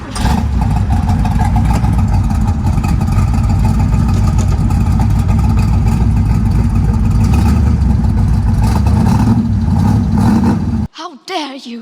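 A 1971 Corvette engine revving loudly through side pipes, a deep, steady rumble close by that holds for the whole stretch, then cuts off abruptly near the end as a voice starts.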